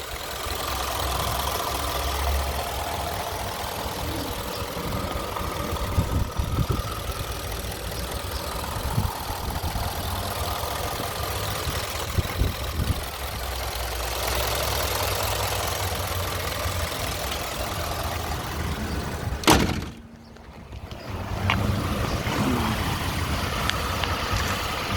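A 2013 Ford F-150 Lariat 4WD with a 5.0L V8 and stock exhaust idles quietly. Its steady, even low rumble continues throughout, broken only by a brief dip in sound late on.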